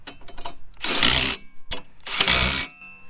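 Two bursts of rapid ratchet clicking come from a socket wrench turning a 14mm socket on a rotary mower being cleaned. Scattered metallic taps fall between the bursts, close and fairly loud, with no talking.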